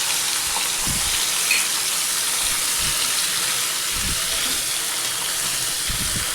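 Bitter gourd drops into hot oil and fries with a steady, loud sizzle and hiss. A few soft low thumps sound beneath the frying, and no one speaks.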